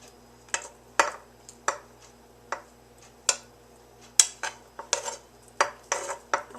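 Cooked ground meat for chili scraped from a pan into a crock pot, heard as a series of sharp metallic scrapes and clinks against cookware, irregular and close, with no talking.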